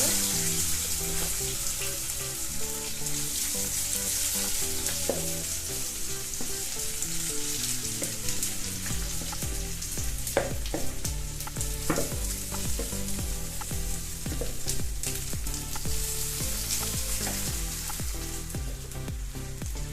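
Amla (Indian gooseberries) frying in a pan while being made into pickle, a steady broad sizzle with stirring scrapes throughout, held over a low tonal hum.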